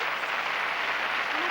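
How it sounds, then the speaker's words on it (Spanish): A TV studio audience on a 1993 Spanish New Year variety show claps in a brief, dense, loud burst of applause with voices mixed in. "Un aplauso para Mangetú."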